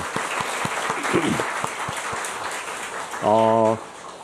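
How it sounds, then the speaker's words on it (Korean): A church congregation claps briefly during a Sunday worship service in Osaka, soft and scattered, with a voice speaking over it. "자리에서 한번 일어나 주시면 박수하겠습니다"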